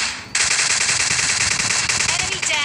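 Rapid automatic gunfire in PUBG Mobile Lite bursts in loud and close after a brief quiet moment, then rattles on steadily with a short dip near the end.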